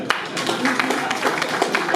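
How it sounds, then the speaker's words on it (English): Symposium audience clapping for a speaker, continuous close applause with many overlapping claps and occasional sharper individual strikes. "Can you clap for him?"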